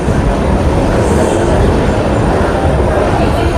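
Amrit Bharat Express, the Nagercoil to Mangaluru Junction train on its inaugural journey, at Varkala Sivagiri station: a loud, steady rumble of rolling coaches and rail noise that fills the whole stretch without letting up.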